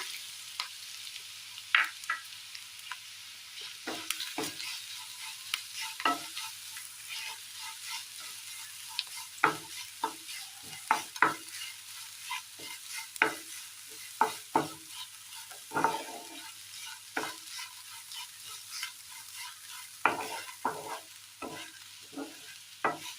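A ground coconut mixture fries in a pan, with a soft continuous sizzle and frequent close scrapes and stirs of a spoon across the pan.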